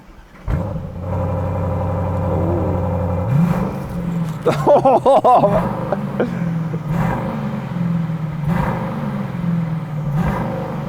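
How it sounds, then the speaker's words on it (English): An Aston Martin DBX 707 SUV engine starts with a bark, settles into a deep idle, then revs sharply with a loud blare from its new exhaust system before dropping back to a rumbling idle. "I think it's time to just have a listen to the DBX 707's new exhaust system"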